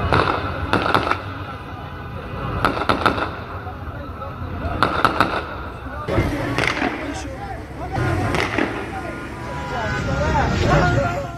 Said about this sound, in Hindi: फिर फायरिंग की